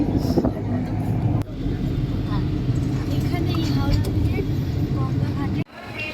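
Inside a car heading to Howrah station, a constant low road rumble fills the cabin, with voices heard over it and a brief thump near the end.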